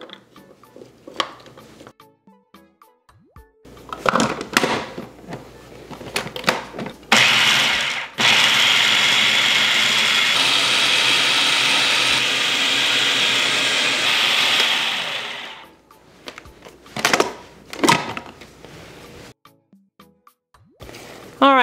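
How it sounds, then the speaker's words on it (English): Blender whirring as it chops habanero peppers and garlic into a chunky mix, a loud steady roar of about eight seconds between short bursts and kitchen clatter, with no talk. "All right, so that's blended into a chunky consistency, just how you want it."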